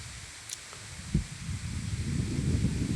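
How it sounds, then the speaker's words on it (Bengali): Strong wind blowing beside a large fish pond, a rough low rumble that builds and gusts against the microphone with faint rustling, no voices. "প্রচণ্ড বাতাস।"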